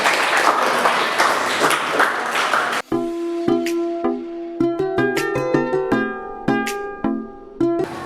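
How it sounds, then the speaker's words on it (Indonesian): Classroom applause from students during an Islamic studies lesson, a dense burst of clapping lasting under three seconds that cuts off abruptly, followed by a series of ringing, chime-like tones. "Boleh tepuk tangan dong."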